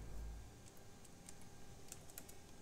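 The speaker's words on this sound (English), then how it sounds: "That's probably his typing though." Faint computer keyboard typing comes through multiplayer voice chat during Euro Truck Simulator 2, a sparse run of light clicks over a low steady hiss.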